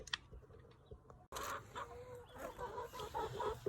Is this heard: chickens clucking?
yes